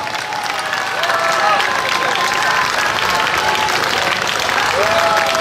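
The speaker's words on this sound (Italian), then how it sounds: "Grande applauso per il dottor Milani." Loud, sustained audience applause welcoming Dr. Milani to the stage at a Bologna rally, a dense wash of clapping with a few cheers, filling the space continuously.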